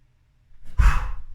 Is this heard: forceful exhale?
yes